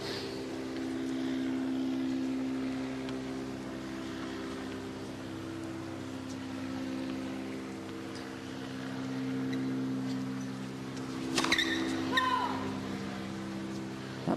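A camera helicopter hovers over an outdoor men's tennis semifinal in New Haven in 1994, its low, steady rotor drone humming continuously in the background, with a brief burst of sharper noise near the end.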